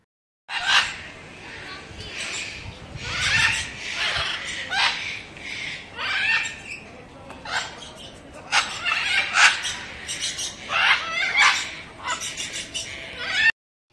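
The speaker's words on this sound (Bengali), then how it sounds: "কি সুন্দর যে পাখিদের আওয়াজগুলো" Many zoo aviary birds, including parrots, call in bursts of loud squawks and chattering screeches, overlapping irregularly at close range throughout.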